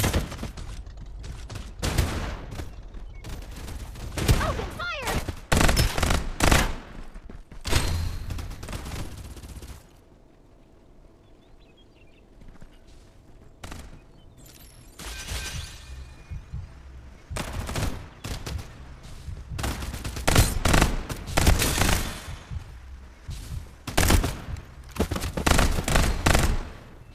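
Gunfire in a battle royale shooter, repeated bursts of rapid shots with short gaps, a quieter stretch in the middle, then dense firing returns, loud and close.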